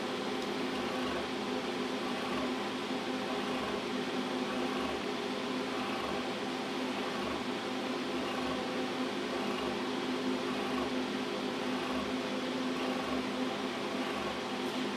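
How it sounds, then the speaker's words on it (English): Steady, constant whir and hum of a motor-driven magnet wheel spinning on a test bench, with a faint regular pulsing underneath, even in loudness and uninterrupted for the whole stretch, no talk. "the wheel's accelerating"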